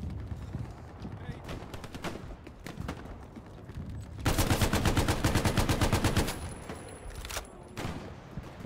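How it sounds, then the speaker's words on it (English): Rapid bursts of machine gun fire in a WWII video game battle at El Alamein, a dense sustained volley in the middle flanked by scattered shots, loud and close with a brief shout. "It's machine gunner up on this building."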